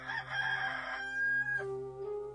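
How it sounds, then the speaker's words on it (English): A rooster crowing, one loud, drawn-out cock-a-doodle-doo with a bright, harmonic call that rises and then falls away, close and heard alone. "and a rooster crowed."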